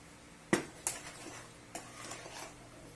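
A utensil stirring flour into muffin batter in a bowl, giving a few sharp clinks against the side and soft scraping strokes, close but quiet, with no speech.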